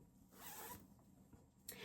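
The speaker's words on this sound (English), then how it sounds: "if I could find the zipper" A zipper on a pillow cover is pulled open in two or three quick, faint rasping strokes. It sounds close and quiet, and no voice comes over it.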